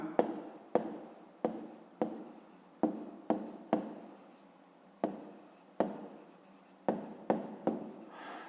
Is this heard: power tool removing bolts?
no